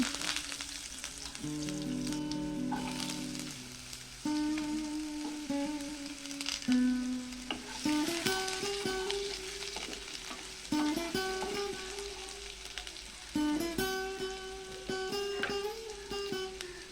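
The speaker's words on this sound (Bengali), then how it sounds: "এই তেলের মধ্যে দিয়ে দেব কেটে ধুয়ে রাখা আলুর টুকরোগুলি।" Washed, cut potato pieces fry in hot oil seasoned with chui jhal, a continuous close crackling sizzle with occasional stirring, heard alone under steady background music.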